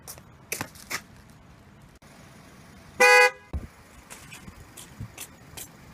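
A car horn gives one loud blast of about half a second midway through, amid light road noise and a few scattered knocks, as a car is being parked.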